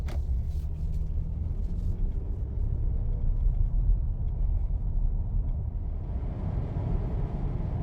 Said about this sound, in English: A little highway nighttime driving.